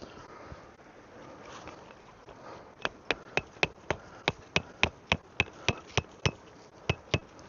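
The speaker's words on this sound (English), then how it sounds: "We'll put the stake in here." A tarp stake is driven into the ground for a simple tarp shelter, with about sixteen sharp, evenly spaced hammer blows following a quiet start.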